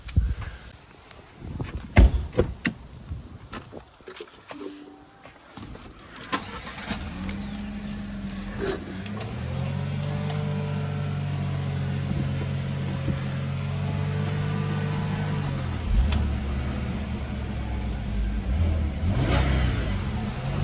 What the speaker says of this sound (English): It's idling a bit rough, so there's probably a timing issue or something.